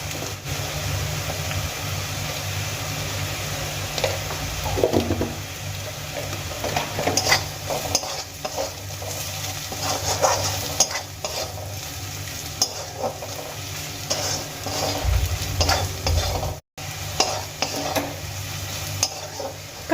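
Continuous sizzling of fried onions with Kashmiri chili powder in a pan, with repeated scraping and clinking of a spoon stirring, close and steady, with a brief dropout near the end.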